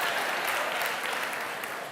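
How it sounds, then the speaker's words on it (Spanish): A crowd at an education lecture claps in a brief, dense burst of applause, steady and full throughout the short moment. "¿A quién aplauden?"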